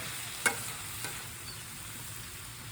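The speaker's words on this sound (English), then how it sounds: "get that chicken frying up." Steady low sizzling of chicken frying in a pan, with a couple of brief clinks or scrapes near the start.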